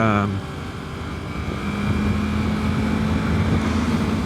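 Engine of a 2021 Yamaha MT-03 motorcycle builds steadily from a low idle into a sustained, rising drone, loud and close, with a steady engine hum held through the end.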